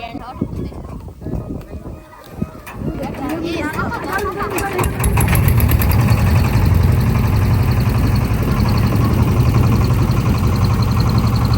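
A boat engine on a village boat trip sputters at first under chatter, then settles into a loud, steady, close droning run while people keep talking.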